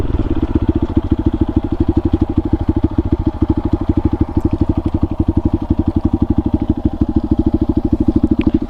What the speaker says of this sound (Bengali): আর এই হচ্ছে বাইকের এক্সস্ট আর সাউন্ড।